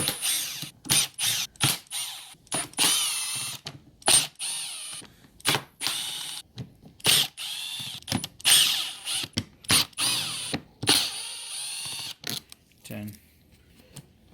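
Bursts of ratcheting and whirring from a screwdriver removing Phillips head screws from the airbox of a 2018 Yamaha R6 motorcycle come in short, repeated spurts, close up, with brief pauses between them.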